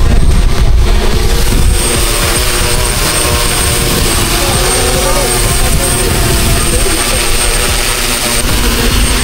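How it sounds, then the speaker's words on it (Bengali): A large 6 to 7 kg training drone comes in to land, its rotors producing a loud, steady, close roar that fills the whole clip without a break. "এবার ল্যান্ডিং হচ্ছে। প্রচণ্ড আওয়াজ হচ্ছে, আর অনেক বড় ড্রোন এটা, টোটাল 6 কেজি"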